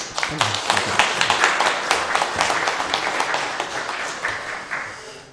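A church congregation claps during a Sunday worship service, scattered hand claps building into a steady round of applause, moderately near, with voices murmuring beneath.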